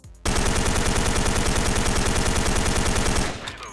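Sustained automatic fire from a K2 rifle in the online shooter Special Force 2, one continuous rapid burst of close, loud shots running nearly four seconds before cutting off.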